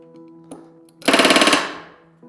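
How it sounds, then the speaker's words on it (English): A pneumatic rivet gun set to low pressure hammers a rivet into an RV-10 aircraft aileron in one loud, close, rapid burst of about ten impacts lasting half a second, framed by quiet shop hum. "I'm gonna go through every fourth rivet hole, or every fourth rivet, and just partially set it like this."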